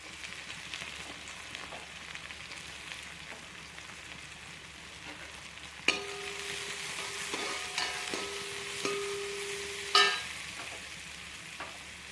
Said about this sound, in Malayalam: ചെറുതായിട്ട് അരിഞ്ഞ് വെച്ചിരിക്കുന്ന സവോള ഇട്ട് കൊടുക്കാം